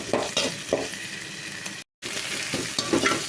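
Tomatoes and onions sautéing in a pan for Maggi noodles, a continuous sizzle with scraping stirring strokes, close and fairly loud, cut by a brief moment of silence partway through.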